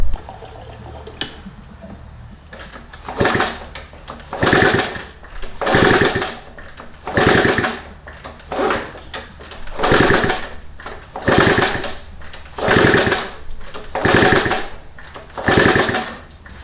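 A 1969 Honda CT70 motorcycle engine being kicked over repeatedly without catching, giving about ten loud rhythmic cranking bursts in close succession, each churning briefly before dying away.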